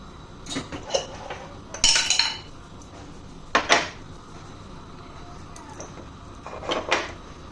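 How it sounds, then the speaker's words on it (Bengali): A wok set on a gas stove with white oil poured in: metal clanks and clatters of cookware in several sharp bursts, separated by quiet stretches with a light background hiss. "গ্যাসটা অন করে কড়াইটা বসিয়ে পরিমাণ মতো সাদা তেল দিয়ে"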